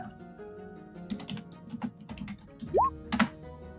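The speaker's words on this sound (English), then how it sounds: "I'm hearing typing and it's worrying me." Computer keyboard typing, a quick irregular run of soft clicks and taps close by, with a short rising whistle-like tone partway through.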